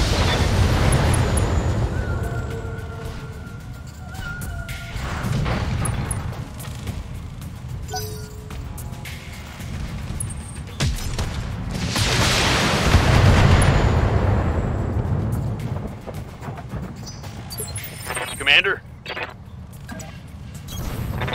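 Mech weapons fire and explosions in the Battletech video game, a dense roar of repeated booming blasts and crackling bursts running throughout at high loudness, swelling midway and again near the end.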